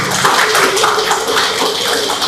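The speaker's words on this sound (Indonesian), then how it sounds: "Tepuk tangan untuk asatidz KPTK" Audience at a kindergarten public presentation clapping together, dense loud applause sustained throughout with a rhythmic pulse.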